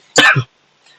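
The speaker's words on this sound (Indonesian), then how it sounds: "saya sedang batuk" A single sharp cough, close and loud, followed by silence.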